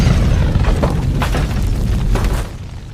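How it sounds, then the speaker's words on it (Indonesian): Deep booming blast from the God Killer weapon in an action film, a loud rumbling roar with sharp crackling bursts throughout. "dengan senjata God Killernya, Piper berhasil menembak salah satu anak buah si Jonah walaupun dirinya harus terhempas oleh dahsyatnya senjata tersebut"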